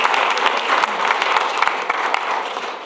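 Applause from the audience at a school board of education meeting, a steady wash of many hands clapping at once that holds for about three seconds at an even level.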